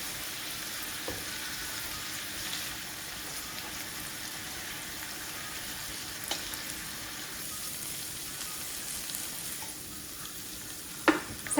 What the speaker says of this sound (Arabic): ودابا غندوز نقلي هاد الهبره